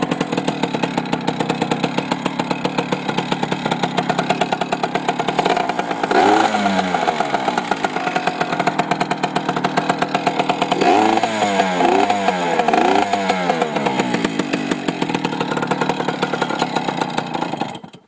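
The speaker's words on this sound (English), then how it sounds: "PW80 startup." Small Yamaha PW80 two-stroke dirt bike engine running steadily and loud throughout, with a couple of sharper revving bursts partway through after fresh fuel was added.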